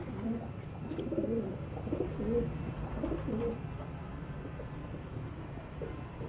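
Pigeons kept for sale in Faisalabad coo in soft, repeated low calls through the first half, moderately close against a faint background hum, then fade to quiet ambience.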